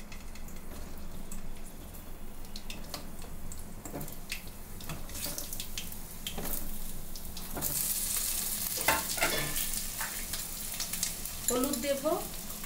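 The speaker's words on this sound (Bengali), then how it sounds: "আলুগুলোকে ভেজে নেব, তেল দিলাম, নুন হলুদ দিয়ে ভেজে নেব।" Potatoes frying in oil with salt and turmeric, a steady sizzle and hiss with scraping stirs and clinks of utensil on pan, plus a brief splash of water near the end.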